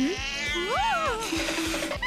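A cat gives several loud, close meows that rise and fall in pitch, heard over a steady rhythmic thumping background and other noise.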